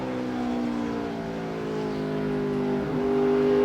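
In-car sound of a 2004 NASCAR Craftsman Truck Series Dodge race truck engine holding a steady droning note, then a quick gear shift near the end, with the engine pitch changing before carrying on, loud and continuous, no voices.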